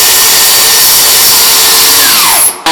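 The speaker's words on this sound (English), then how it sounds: "we'll come through and cut the joists or right on either side of that" A power saw cuts through wooden floor joists made of LVL in a house framing job, a loud steady cutting roar that winds down as the blade spools off and stops near the end.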